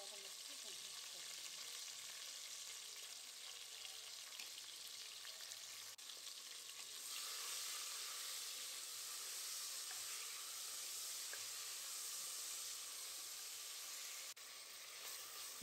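Tomatoes with salt sauté in a pan for mutton kuzhambu, giving a faint, steady hissing sizzle that swells slightly partway through, with no voices.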